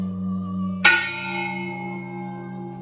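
The smaller of two convent bells at the Convento de São Francisco do Paraguaçu is rung by pulling a rope, giving one loud, bright strike that rises over a lower background tone and then rings on, slowly fading.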